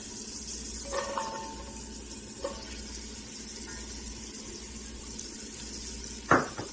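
Shallots dropped into warm, simmering olive oil give a low, steady sizzle with a few soft clinks and a sharper sputter near the end, close and alone.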